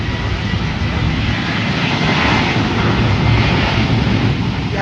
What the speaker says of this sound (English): we got the Sun Country 737-800 about to take off to Minneapolis